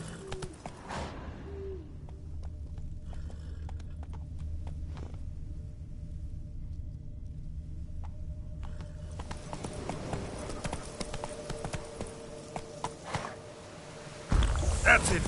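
Roach, the horse from the video game The Witcher, gallops with steady clip-clopping hooves over a low rumbling game soundscape, with a voice speaking briefly near the start and a louder burst at the very end.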